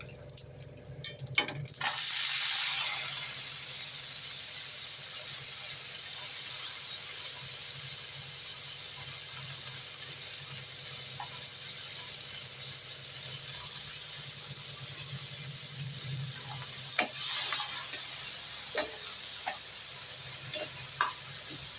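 Adamant creeper (pirandai) pieces sautéing in oil with chana dal, giving a steady, even sizzle that holds throughout after a brief rustle at the start, with a few faint clinks toward the end.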